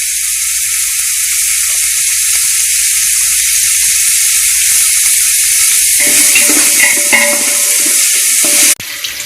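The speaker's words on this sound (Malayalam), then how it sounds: "ഇവിടെ സവാളയൊക്കെ നന്നായിട്ട് വഴണ്ട് വന്നിട്ടുണ്ട്." Sliced onions and curry leaves sautéing in a pan for chicken mandi: a loud, steady close sizzle throughout, with light stirring scrapes and a brief clatter near the end.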